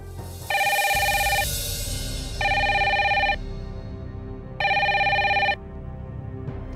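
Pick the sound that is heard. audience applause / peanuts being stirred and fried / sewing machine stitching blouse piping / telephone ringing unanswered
telephone ringing unanswered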